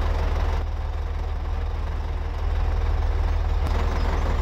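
A Massey Ferguson tractor engine idles in Farming Simulator 2017, a steady low mechanical drone with a pulsing rumble, constant and fairly close with no speech.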